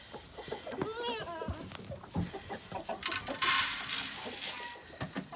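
Chickens cluck and squawk in short bursts close by, with other farmyard animal calls mixed in and people talking quietly in the background.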